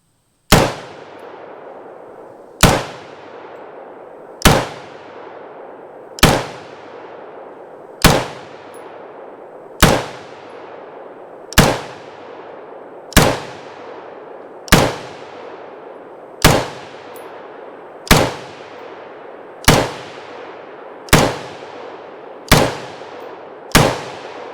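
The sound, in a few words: T91 piston AR rifle firing at a range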